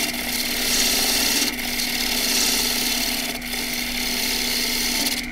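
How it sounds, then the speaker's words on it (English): A wood lathe runs with a steady motor hum as a 1/2 inch spindle gouge skims the foot of a box-elder bowl, a continuous close cutting rasp with brief dips in intensity. "Now just skim off the foot, which I'll do with a 1/2 inch spindle gouge using the wing"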